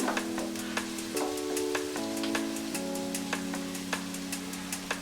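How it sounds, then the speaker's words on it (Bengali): Garlic paste fries in a pan with a steady, close sizzle while a utensil stirs it, tapping and scraping in a light, regular rhythm. "রসুন বাটা দিয়ে দিচ্ছি প্রায় এক চা চামচ পরিমাণ নাড়াচাড়া করে দিচ্ছি"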